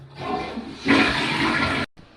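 A toilet flushes up close: water rushes loudly for about a second, then cuts off abruptly, with no talking.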